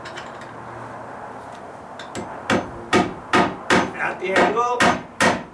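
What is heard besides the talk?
hammer nailing a joist hanger to wood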